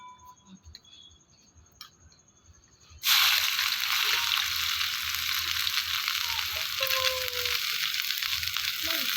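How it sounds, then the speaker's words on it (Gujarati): Onion dropped into hot oil for a rustic free-range country chicken curry breaks into a sudden loud, steady sizzle that holds for several seconds, after a quieter stretch of faint ticking and clinks. "एमां पहेला तेल गरम थया पछी अंदर नाखीशुं डूंगળી"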